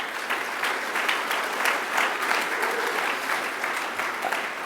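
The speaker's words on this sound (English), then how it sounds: "Y'all give him a round of applause." An audience at an annual meeting gives a round of applause, sustained crowd clapping that holds steady and close for several seconds with no speech over it.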